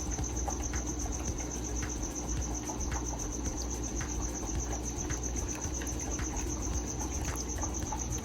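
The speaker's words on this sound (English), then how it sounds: "a cricket has decided to live in my kitchen, so I can't stop him from chirping" A cricket in a kitchen chirps steadily and rapidly throughout, a continuous high trill over a low background hum, with faint scattered clicks.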